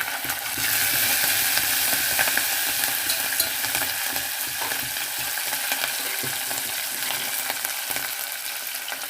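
Chopped green chillies sizzle in hot oil in a pan while carrot upma is being cooked, a steady bright crackling frying hiss with occasional stirring scrapes, close and without speech.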